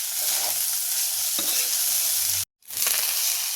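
A spoon stirs and scrapes jeera rice around a hot pan, with a continuous sizzling hiss, a few sharp scraping strokes and a brief silent break before the stirring resumes close up.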